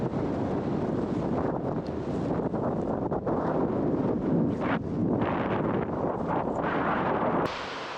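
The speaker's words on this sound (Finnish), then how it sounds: "Ja nyt juostaan sinne kovassa tuulessa." Strong wind batters the microphone without a break while someone runs outdoors in the Finnish wilderness, a loud, steady roar that falls away slightly near the end.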